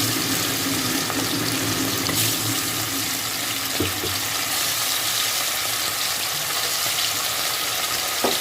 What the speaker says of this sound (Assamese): ইয়াতে কেৰাহীটোত মই মিঠাতেল দিছিলোঁ, গৰম হৈছে। এতিয়া আমি এইটো ফ্ৰাই কৰি লওঁ